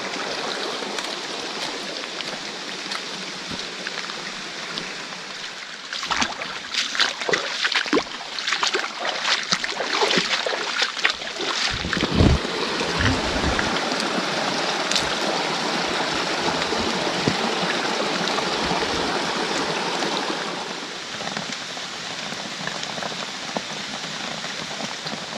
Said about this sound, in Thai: น้ำในลำธารตรงนี้นะครับจากที่ไม่มีน้ำเลยนะครับตอนนี้นี่คือ ไหลแรงมากเลยครับ